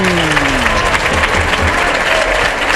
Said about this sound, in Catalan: I l'ovació, la Murta en peu